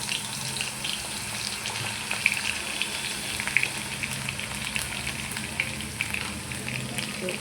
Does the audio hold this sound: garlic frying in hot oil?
yes